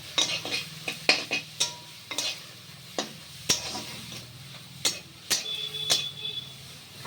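Kharkol water lily leaves fry with a pinch of salt in a pan, a soft steady sizzle broken by sharp metallic clicks and scrapes of a spatula, irregular and close, with no talking.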